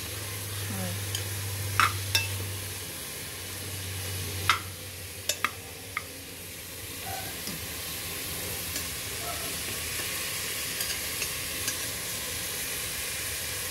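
Chicken sautéing in a pan with papaya, onion and moringa leaves, a steady low sizzle with a few sharp clinks of a utensil scraping and stirring, moderately close and without speech.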